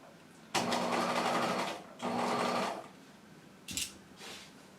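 A sewing machine stitches a half-inch jacket sleeve seam in two steady runs of about a second and a half each, then gives a short burst near the end.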